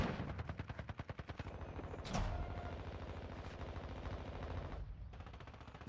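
Rapid automatic gunfire in the mobile shooter Warzone Mobile, rattling bursts from several weapons with a sharp blast partway through and steady firing continuing to the end.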